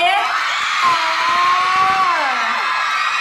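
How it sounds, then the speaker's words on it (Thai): A crowd of fans screams and shrieks loudly and continuously for a singer at a mall event, a dense wall of high-pitched excited voices close by. "ไหนขอเสียงกรี๊ดดังๆ"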